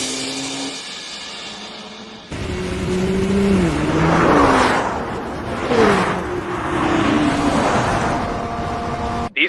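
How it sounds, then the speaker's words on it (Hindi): Race cars at full throttle on Kamaboko Street, including a naturally aspirated 2.0-litre car, roar loudly with engines revving and rising in pitch through gear changes, several cars blending close together in a sustained, aggressive howl. "वो फुल थ्रॉटल मार रहे हैं, जैसे कि अपनी सारी फ्रस्ट्रेशन निकाल रहे हो।"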